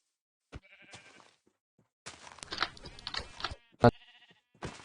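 Several short sheep bleats separated by silences, with clicks between them, sounding like Minecraft game sound effects.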